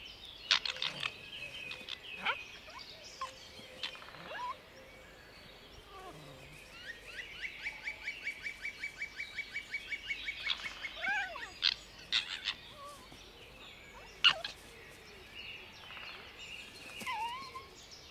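Birds nesting in spring call from close by, giving sharp chirps and a long rapid trilling rattle mid-sequence, with scattered short notes and pauses between bursts, and no voices.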